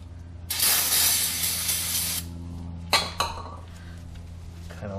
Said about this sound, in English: take both your nuts, okay, and clean them with some brake clean in a rag.